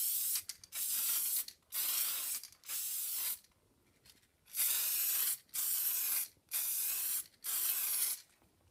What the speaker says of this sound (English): The box has now had 10 coats of spray lacquer